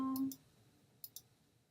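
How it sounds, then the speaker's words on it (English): Computer mouse clicks, soft and close, come as two quick pairs: one at the start alongside a brief tone, and a faint second pair about a second later in a quiet room. "Click on that one."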